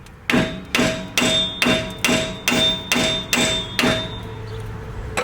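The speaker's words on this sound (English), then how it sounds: "Grab a hammer and don't hit it here. Hit it on the side of the knuckle." A hammer strikes the side of a steel steering knuckle eight times in a steady rhythm, each blow loud and close with a ringing metallic tone that fades between hits.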